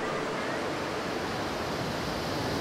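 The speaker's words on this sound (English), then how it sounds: "At over 1 million gallons per second, Niagara Falls is the most famous and impressive display of water power on Earth." Niagara Falls roars as a dense, unbroken wash of falling water, a steady broadband rush that fills the air without pause or variation.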